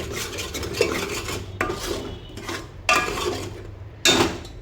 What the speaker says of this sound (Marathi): आता तेल सुटेपर्यंत छान मसाला परतून घेऊया।